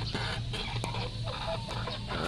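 Chicken clucking softly in a few short, low calls over steady background hum, fairly faint and heard without talk.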